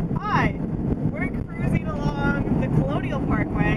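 Wind at the beach buffeting the microphone in loud gusty rumbles, with voices talking over it throughout.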